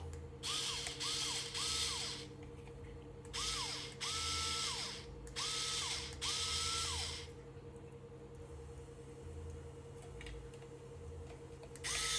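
An electric screwdriver removes screws from an Epson XP600 printer in repeated whirring bursts, each rising and falling in pitch, close and fairly loud over a steady hum.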